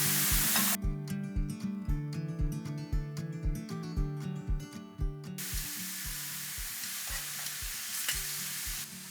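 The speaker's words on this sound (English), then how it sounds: "I'm gonna go ahead and add my already seared venison back into the pan" Seared venison with cumin sizzling in a hot pan for fajitas, a loud broadband hiss at the start and again over the last few seconds, with a rhythmic music bed covering the middle stretch.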